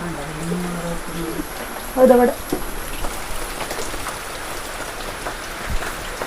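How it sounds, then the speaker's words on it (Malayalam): Steady rain falls outdoors as a constant wash of noise, with a brief louder burst near the middle and a voice speaking faintly in the background. "നല്ല മഴയാണ്"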